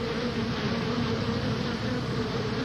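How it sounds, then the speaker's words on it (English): A dense swarm of bees gathered on the back of an ambulance hums as a steady, close, loud buzz with no breaks. "There were so many bees on the back of that ambulance."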